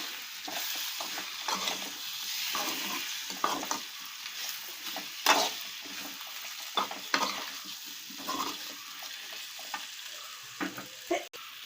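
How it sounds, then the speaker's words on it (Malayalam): Lemon pieces and chili are stirred together for lemon pickle, making intermittent scraping strokes over a faint sizzle. A few sharper knocks stand out, including one at the very end. No voices. "ഇനി നന്നായിട്ട് ആ മുളക് നാരങ്ങയിൽ പിടിക്കത്തക്ക വിധം നല്ലതുപോലെ ഇളക്കി കൊടുക്കണം."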